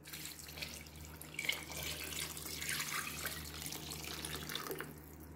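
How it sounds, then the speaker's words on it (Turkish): Bone broth pouring steadily into a pot of green bean and bulgur stew, a continuous soft splashing trickle with no talking. "Kemik suyunu döküyorum."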